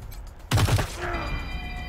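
A short burst from an SMG in Wasteland 3 fires in a quick, loud cluster of shots, then leaves a faint ringing tail with no voices.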